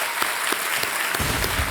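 Studio audience on the KBC quiz show applauding to welcome the contestants, a steady dense wash of clapping that fills the whole stretch at a fairly loud level, with no voices over it.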